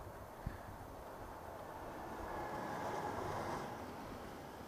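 A low, broad rumble of a passing BNSF freight train locomotive swells and then eases off, heard from some distance with wind noise.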